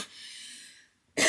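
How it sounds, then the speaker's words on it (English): A single sharp cough bursts out near the end, loud and close, after a stretch of soft breathy noise. "And I still have that exact same cough"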